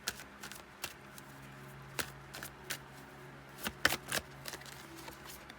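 Deck of oracle cards being shuffled by hand in a quiet room, a series of short soft riffling bursts and taps spread irregularly across the clip.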